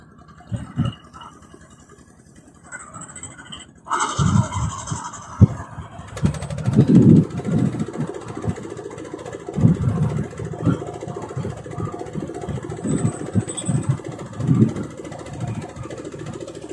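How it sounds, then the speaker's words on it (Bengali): An engine-powered fishing boat on Chalan Beel in Bangladesh starts quiet, then its motor rises to a loud, steady chugging drone from about four seconds on that carries through to the end. "অনেক নয়েজ আছে, কারণ এটা ইঞ্জিন চালিত নৌকা।"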